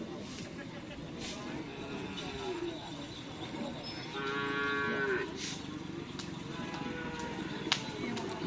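Cattle low and moo repeatedly during bull race (karapan sapi) training on an open field, with a longer, louder call midway, over a busy crowd murmur and nearby outdoor chatter.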